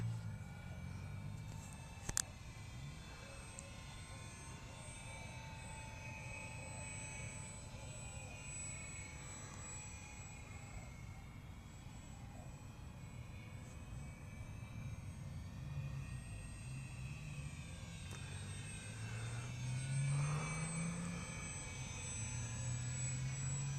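An Airfield Sky Trainer 182 RC model airplane drones steadily at a distance during a long flight, a faint continuous engine hum over open outdoor air, with no talking.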